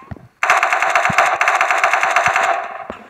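Rapid automatic gunfire in a video game shooting down enemies, a sustained loud burst of closely spaced shots lasting over two seconds, preceded by a few isolated pops and trailing off at the end.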